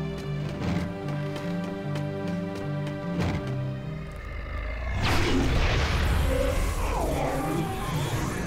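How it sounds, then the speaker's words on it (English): Explosion in the video game Jak 2, a deep booming burst with rumble that cuts in midway over a steady musical game soundtrack and lingers as a noisy roar. "Explosion."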